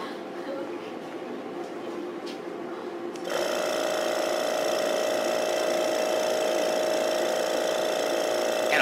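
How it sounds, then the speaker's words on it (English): Laboratory vacuum pump switched on for Buchner funnel filtration, starting abruptly and holding a steady, fairly loud whine with a constant mechanical drone after a quieter stretch of room noise. "Now the next thing I'm going to do is turn on the vacuum."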